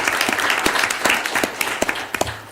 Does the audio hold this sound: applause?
yes